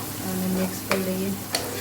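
A rice-based bhajiya mixture is stirred in a pan as it fries, giving a steady sizzling hiss with two sharp spoon scrapes against the pan.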